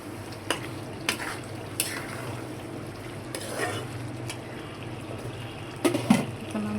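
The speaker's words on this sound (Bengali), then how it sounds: "আলু দিয়ে আমরা সুন্দর করে একটা কষান দিয়ে নেব" Potatoes being stir-fried into a spicy curry base in a pan: a faint, steady fry with occasional spatula knocks and scrapes, a couple of sharper clatters near the end, and no voices.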